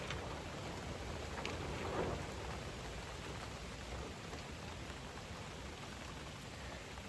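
Heavy rain pours steadily outdoors in a dense, continuous hiss with a slight swell near two seconds, loud and unbroken throughout, with no voices.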